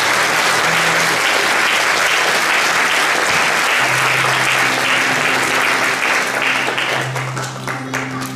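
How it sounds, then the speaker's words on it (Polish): Loud, sustained applause from a conference audience at a regional parenthood day event in Olsztyn, dense clapping filling the room with faint voices underneath throughout. "Duże, duże brawa."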